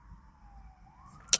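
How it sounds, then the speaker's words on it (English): A faint, distant siren glides slowly in pitch beneath quiet background hum, ending with a brief sharp click. "I'm sorry for the sirens in the background"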